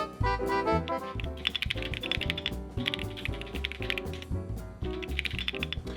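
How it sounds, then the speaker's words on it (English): Rapid, crisp clacking of key presses on a newly built mechanical keyboard being tested, irregular bursts of close clicks with brief pauses between them. "you'll want to plug in your keyboard and make sure each key press is registering correctly into the device."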